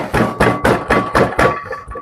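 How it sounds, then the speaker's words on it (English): A butcher's hammer pounds a veal cutlet on a board with about eight loud, evenly spaced thuds that fade slightly toward the end, close and unaccompanied by speech. "my butcher hammer and I'm going to tenderize it just like that"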